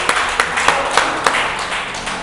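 A church congregation claps in unison, a steady rhythm of loud, evenly spaced claps over a dense wash of applause and background noise.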